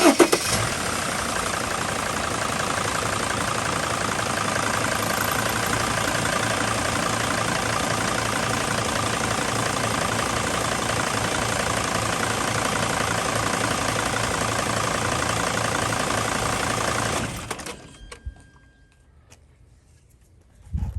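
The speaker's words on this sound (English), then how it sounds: "I'm going to do the running test and let the van run for 10 to 15 seconds." A van's diesel engine runs steadily for about seventeen seconds during an injector leak-off test, a loud, constant close-up drone with a faint knocking texture, then shuts off abruptly into near silence.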